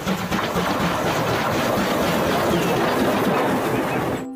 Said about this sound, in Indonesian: Ada kereta api Thomas.